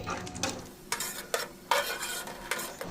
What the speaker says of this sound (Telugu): పల్లీలు మంచిగా వేగుతున్నాయి